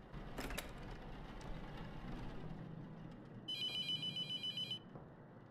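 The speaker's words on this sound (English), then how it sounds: "What's with the phone?" A telephone rings inside The Mortuary Assistant horror game, one burst of rapid trilling bell pulses lasting about a second, over a low ambient drone and a few earlier knocks.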